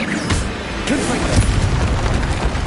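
Confringo explosive spell in Hogwarts Legacy, loud booming blasts and crashing impacts filling the clip amid game combat noise, with a voice calling out over it.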